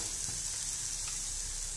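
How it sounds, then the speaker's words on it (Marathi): Masala for urad dal curry sautéing in a pan, a steady faint sizzle and hiss of frying spices, close but quiet, with no talk. "मसाला छान परतून झाला"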